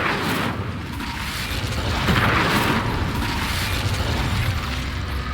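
Incendio fire spell cast in Hogwarts Legacy, a loud steady whooshing roar of flame that swells slightly midway and holds throughout with no talk.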